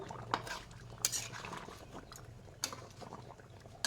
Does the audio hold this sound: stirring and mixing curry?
yes